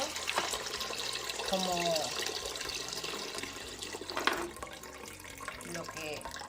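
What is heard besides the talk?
filtered water filling a jug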